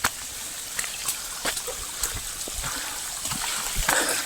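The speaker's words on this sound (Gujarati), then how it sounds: "પાણી હો ડુંગર ઉપરથી પાણી આવે પ્યોર મિનરલ વોટર" Water flowing down a hillside stream on a rainy mountain trek at Aabhapara, a close trickling and splashing wash broken by brief sharp knocks and taps, with no clear talk over it.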